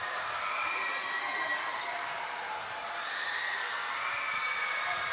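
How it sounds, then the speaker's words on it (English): Basketball crowd in Passi City, Iloilo, roars during a close tournament game, a dense sustained cheer with whoops and shouts lasting the whole stretch, loud and continuous without breaks. "Listen to the crowd. The Passi crowd."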